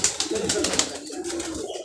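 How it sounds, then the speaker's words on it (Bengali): Pigeons kept in a rickshaw garage coo close by in a brief burst of soft, throaty calls, with faint rustling around them. "কবুতর ওড়াউড়ি করতেছে চমৎকার।"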